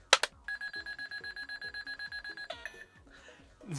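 Yu-Gi-Oh Proplica Duel Disk toy running its final calculation sound: a couple of clicks, then a steady electronic beeping tone over a rapid rhythmic ticking count, ending with a brief chime and fading clicks.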